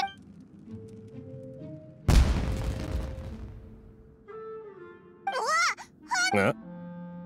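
A sudden explosion in Genshin Impact erupts as a heavy boom that rumbles and fades over about two seconds, followed by game music and character voices speaking.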